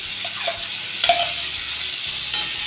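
Mixed vegetables with turmeric, including pre-fried aubergine and yardlong beans, sizzle in a pan while being stirred, a steady close hiss with a few scraping strokes of a spoon.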